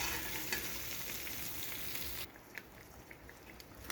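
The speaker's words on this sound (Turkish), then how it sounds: "Biraz domates salçası, çok az biber salçası. Bakın salça fazla değil, az. Kavuracağım" Tomato and pepper paste fries in hot oil with a dense, continuous sizzle that eases partway through into a quieter crackle and occasional pops.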